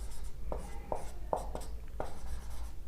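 A pen scratches out a physics problem on paper in a series of short, quiet strokes and taps, spaced irregularly over a low steady background hum.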